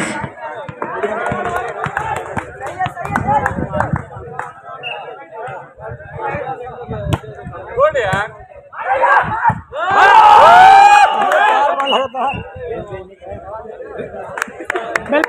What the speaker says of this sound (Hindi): जोरदार ताली गजब की सर्विस